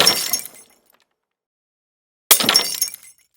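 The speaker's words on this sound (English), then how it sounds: "Crack the egg, boy." An egg cracked by a child making pancakes, two sharp brittle cracks about two seconds apart, each a close, bright crunch that fades quickly into silence.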